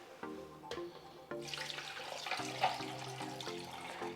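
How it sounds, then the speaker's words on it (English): A cup of water is poured into a blender with ice and lemon for citrus carrot juice, a soft, steady splashing pour that runs continuously under faint background tones. "And then we're gonna add 1 cup of water."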